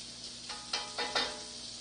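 Onions for a teriyaki vegetable stir fry sizzle and crackle in a hot pan, with a steady fry hiss and a few louder bursts of sizzle as they go in, close up with no talking.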